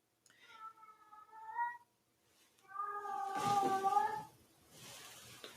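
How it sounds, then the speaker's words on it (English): A cat meows twice during an indoor class session: a drawn-out, tonal cry, a short pause, then a longer, louder one over faint room noise. "y'all hear that cat?"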